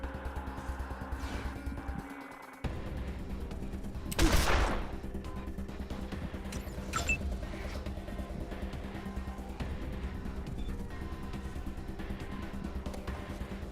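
A shotgun fires once in Wasteland 2, a loud broadband blast standing out over steady game music and ambience, with a couple of fainter shots following later.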